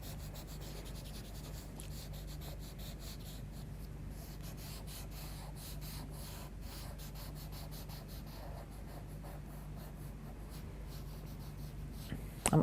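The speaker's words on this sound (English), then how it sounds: "pick up a paper stump and just start blending that colour in together" A paper stump blends charcoal on paper, producing a steady, soft scratchy rubbing that continues evenly throughout over a low background hum.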